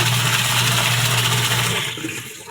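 Eureka single-tub washing machine spinning after a belt repair, a steady close whirring and watery churn that stays even before easing down toward the end.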